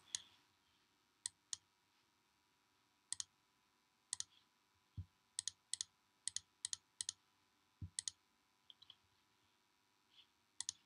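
Sharp, dry clicks from a computer mouse while managing website files, coming in irregular bursts of single and double clicks, close up and alone with no talk.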